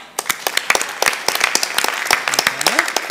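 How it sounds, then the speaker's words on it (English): Audience applause at a startup launch session, a few seconds of sharp separate claps from a modest crowd, close and lively, with a brief voice near the end. "Give a round of applause."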